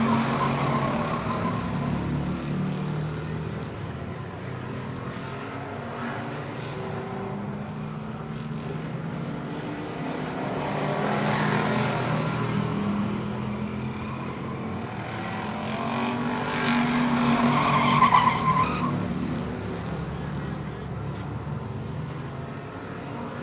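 Hobby stock race cars lap La Crosse Speedway during group qualifying, a steady distant engine drone that swells and fades as the pack passes, with no talk over it.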